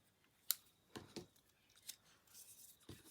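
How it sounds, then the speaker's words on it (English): Scissors snip several times during a honeycomb kit craft project, a series of sharp, close, quiet cuts spaced irregularly with short pauses between them. "Always helps to have a pair of scissors."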